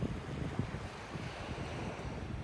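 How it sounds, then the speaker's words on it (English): Ocean waves wash up on a beach in North Naples, Florida, in a soft continuous rush mixed with wind buffeting the microphone, with no voices. "as the waves come up, as the tides change, they kind of spread the shells out on the beach"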